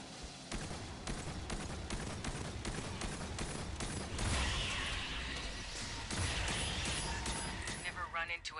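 Rapid automatic gunfire from Aliens Fireteam Elite, a dense loud stream of shots with mechanical clatter, continuing without pause through the whole stretch of combat, with game noise layered underneath.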